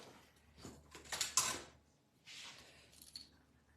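Scissors snip through paper card ends during a spring stamping craft, a few close, crisp cuts in quick bursts with quiet pauses between, no talking.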